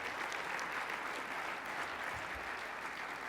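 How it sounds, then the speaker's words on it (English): Distant, faint applause from a large conference audience at a general session, an even patter of clapping that continues steadily without a break. "I would like all of you to give them a round of applause"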